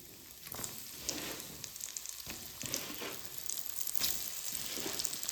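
Cut raw green mango pieces fry in oil for a spicy mango pickle, giving a soft, steady sizzle and crackle with occasional louder pops and light stirring, fairly quiet and with no talking.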